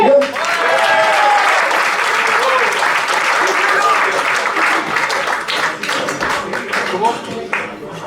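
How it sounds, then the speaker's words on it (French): A crowd applauds at a gastronomy awards ceremony in Noisy-le-Grand, giving sustained, loud clapping that stays full for several seconds before thinning slightly, with some voices mixed in. "Laurence Perrault, on peut l'applaudir."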